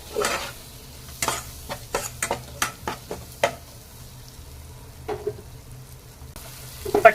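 Potato masala with green peas sautés in a pan, a low sizzle under repeated close, crisp spatula scrapes and taps in uneven bursts, with no talking.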